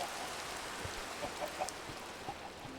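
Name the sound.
rain in the video game Minecraft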